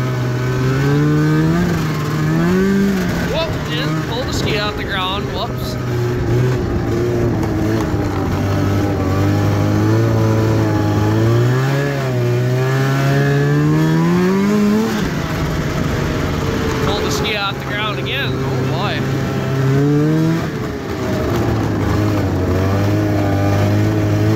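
A 1991 Arctic Cat Prowler 440 snowmobile engine runs loud and close throughout, idling with a steady drone and revving up and down in repeated swells.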